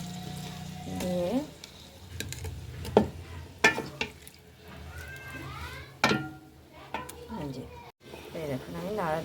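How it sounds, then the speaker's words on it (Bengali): Chicken meat being stirred in a hot pan, a soft scraping and sizzling under a person's voice, with a few sharper clanks of the spoon against the pan. "মাংসটা এবার আমি নাড়া দিয়ে দেবো"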